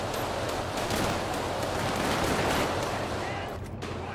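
Shotgun fire in GTA 5 with the LSPDFR police mod, a dense, continuous barrage of blasts under a loud, noisy wash of sound.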